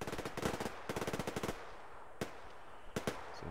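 Rapid automatic gunfire in the Survarium shooter game, dense bursts for the first second and a half, then scattered single shots and short bursts further off, with no talking.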